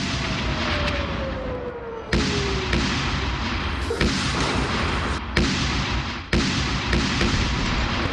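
Air strike explosions hit tunnels in a series of sharp, heavy booming blasts, roughly half a dozen at irregular intervals, loud and reverberant over a constant rumbling background with a descending whine early on.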